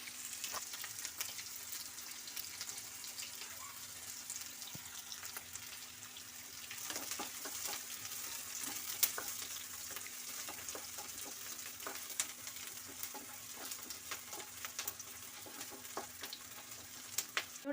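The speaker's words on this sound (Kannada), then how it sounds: "ಸ್ವಲ್ಪ ಈರುಳ್ಳಿ ಬ್ರೌನ್ ಕಲರ್ ಬರಲಿ" Onions frying in a pan with mustard seeds and cumin for a bottle gourd gravy, a soft continuous sizzle with scattered crackles and pops, fairly faint and steady throughout.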